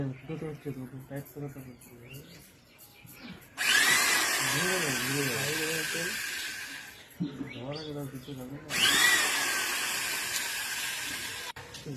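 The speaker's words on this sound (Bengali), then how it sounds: "প্রত্যেকটা পিসের দু সাইডে একটা করে ফুটো করছি" A power drill bores holes through small wooden pieces in two long, loud whining bursts, with someone talking in the gaps between them.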